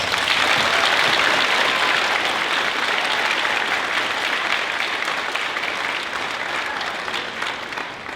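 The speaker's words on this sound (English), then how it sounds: "So please give those administrators a round of applause." A large audience at a school spring band concert claps loudly and steadily, the applause holding strong before tapering off slightly toward the end.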